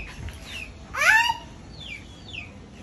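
Tiger chicken calling on a farm, a few short chirping calls with one louder, rising cry in the middle, fairly close and alone against a quiet background.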